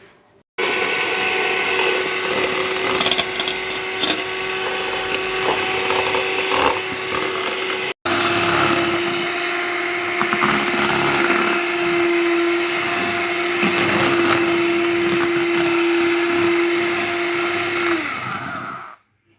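An electric mixer whips cream with plain sugar in a loud, steady high whine that runs almost continuously close by, with one brief cut near the middle, and no voices are heard.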